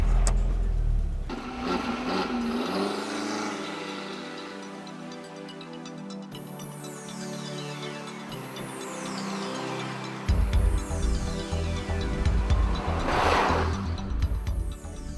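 A Seat Tango sports car with a 1.8 turbo engine drives on a racing circuit, its engine droning and rising through the gears as it passes at moderate distance, with the pitch sweeping up and down under no talk.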